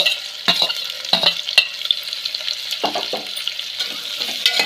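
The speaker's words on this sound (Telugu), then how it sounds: "ఉల్లిపాయలు వేస్తున్నాను" Onions frying in a pan for a country-chicken style dish: a steady, close sizzle with several sharp spoon scrapes and clatters as they are stirred, and no talking.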